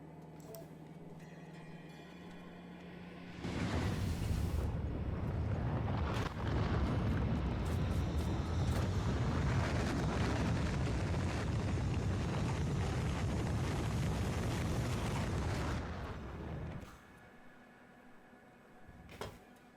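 A loud, sustained roar from a rocket launch in Factorio Space Age swells suddenly, rumbles steadily for about thirteen seconds, then cuts off, leaving a quiet hum.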